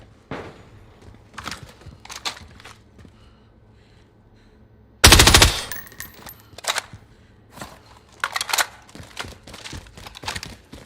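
Gunfire in a military-style shooter video game: a loud, dense burst of rapid shots stands out near the middle, with scattered lighter pops and clicks before and after.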